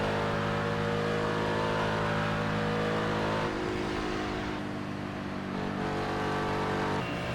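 Race car engines roar steadily in a racing video game as cars overtake an Aston Martin around the outside of Blanchimont, the engine note holding loud and continuous, then shifting partway through as one car passes.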